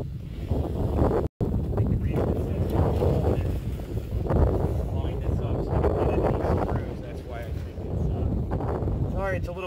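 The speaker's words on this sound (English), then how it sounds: "It's a little windy today." Wind blows outdoors and buffets the microphone in continuous rumbling gusts while a bed rail extension kit for a Can-Am Defender is fitted, and faint speech runs beneath it.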